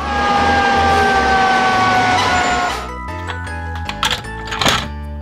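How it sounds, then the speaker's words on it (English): A red toy fire engine wails its electronic siren loudly and steadily for a few seconds, then stops, followed by several plastic clicks and thunks as the toy is handled. "Red fire engine."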